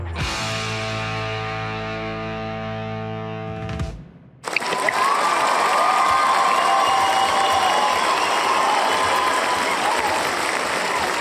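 After a sustained musical tone cuts off, a studio audience breaks into loud, dense applause with some crowd noise that carries on to the end.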